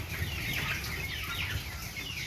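Broiler chickens in a farm cage cluck and chatter in a steady, busy stream of overlapping bird calls over a low background rumble, with no talk.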